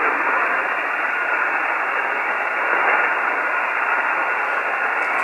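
Dense, even static hiss from a radio receiver tuned to a Russian station, steady and loud for the whole stretch with no clear voice or tone emerging.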